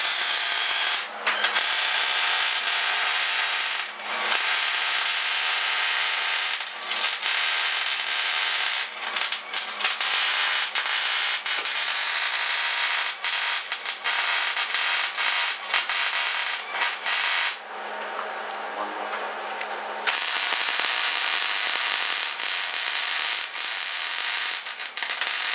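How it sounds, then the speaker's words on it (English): Welding on a steel frame for a spaceship trailer, nasty metal that resists the weld, gives a loud continuous crackling hiss that runs nearly unbroken, with brief pauses near the start and a short dip around the two-thirds mark. "That really doesn't like to be welded."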